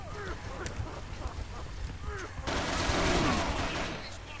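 Gunfire crackles in the online shooter game Operation7, with sharp repeated shots and bursts among game sound effects, then a denser wash of noise from mid-clip onward, fairly loud throughout.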